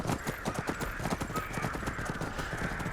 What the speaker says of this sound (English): He's riding a horse.